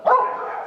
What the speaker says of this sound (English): Duke is an Australian Shepherd miniature Border Collie mix.